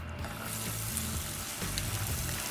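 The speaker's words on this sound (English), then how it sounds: "Love that sizzle." Onions sizzle loudly in hot oil with cumin seeds in a pan, a steady close frying hiss with no talk.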